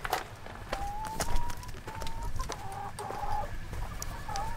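Backyard chickens cluck in a continuous chorus, some calls near and some farther off, with short rising notes and occasional sharper squawks over light outdoor background noise.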